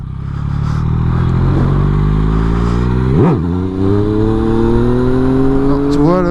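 A Yamaha MT-09 motorcycle revs hard through a wheelie. The engine note climbs steadily, drops sharply when a gear shifts midway, then rises again. The bike is loud and close, with wind buffeting and a voice heard under it.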